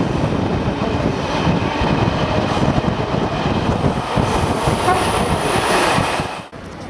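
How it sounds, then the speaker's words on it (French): A new, modern local stopping-service passenger train passes on a railway line between Zagreb and Sarajevo, a steady loud rumble of wheels and rail clatter lasting several seconds before dropping off abruptly near the end. "Plus loin, nous croisons une rame neuve et moderne qui assure un service omnibus."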